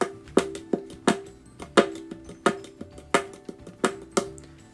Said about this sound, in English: you take the bottom part of the ukulele, and then you just hit that as if you're strumming.